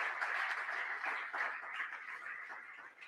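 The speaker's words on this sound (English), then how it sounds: "So let's give the Moms Club a round of applause for all that they do." Members of a Moms Club receive a round of applause during an association's annual meeting webinar, a steady wash of clapping from a group held at even loudness for about three seconds before tapering slightly at the end.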